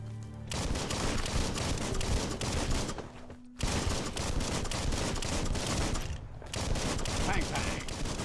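Gunfire in Biomutant rattles in long, rapid streams, loud and close, broken by two short pauses before the shooting resumes.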